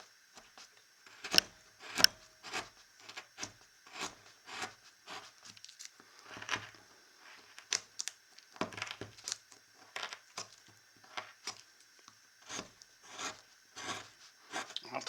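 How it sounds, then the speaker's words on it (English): Fishtail gouge cutting and scooping wood from a hand-carved hillbilly shelf sitter figure, a run of short dry scraping rasps in an uneven rhythm, close and fairly quiet, with no voices. "So I'm just going to come in here, fishtail gouge, allow me to get quite a bit of wood poked out of there."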